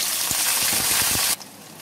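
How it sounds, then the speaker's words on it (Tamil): Brinjal sautés in hot sesame oil with a loud, dense, close sizzle and faint stirring knocks, then the sound cuts off abruptly. "இப்போ நல்லெண்ணெயில் கத்திரிக்காயை மட்டும் போட்டு நல்லா வதக்கி எடுத்துக்கலாம்."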